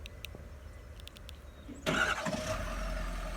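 A Ford F-150 with the 5.0L V8 cranks briefly and fires up, then settles into a steady idle, heard fairly close after a quiet stretch with small clicks.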